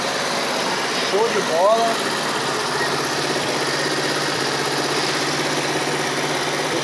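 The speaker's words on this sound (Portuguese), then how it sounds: "Motorzinho ligado." Small 50–100 cc motorcycle engine with an oil leak idling in a steady, even drone at close range, while someone speaks briefly early on.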